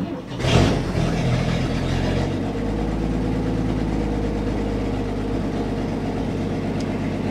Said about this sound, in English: still gotta get a muffler on this thing. It's it's pretty ridiculous how loud this is